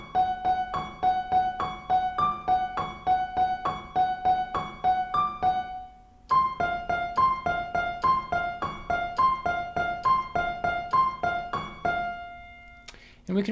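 Piano plays the Halloween theme melody: a quick, steady run of repeated notes in a looping pattern that pauses briefly and restarts, ending on a held note, with no talking.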